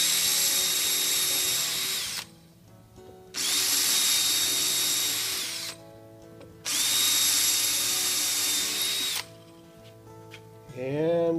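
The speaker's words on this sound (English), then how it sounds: "Just make sure you don't drill all the way through." Power drill boring a hole for a safe hinge, three loud close bursts of whining drilling separated by short quiet pauses, with a brief start of a fourth at the end.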